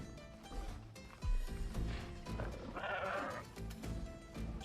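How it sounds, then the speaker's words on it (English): Sheep bleating in the survival video game Dragonwilds, a wavering bleat rising midway over background game music and effects, fairly quiet and mixed low. "Sheep."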